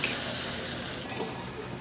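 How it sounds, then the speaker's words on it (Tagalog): Water pours into a hot pan of frying marinated pork, producing a steady rushing hiss and sizzle that stays close and fairly loud throughout. "Pagka ganito na natuyo na siya at nagmamantika na rin, maglagay na ako ng tubig."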